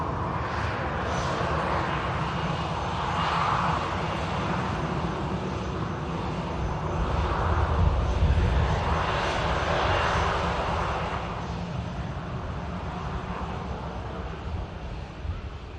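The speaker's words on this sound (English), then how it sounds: "in the form of a A321neo coming in from Istanbul" An Airbus A321neo arriving from Istanbul at Manchester Airport gives a steady, broad engine roar that swells gently in the middle and eases slightly toward the end, with no talk.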